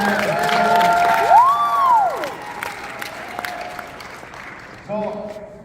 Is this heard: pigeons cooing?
no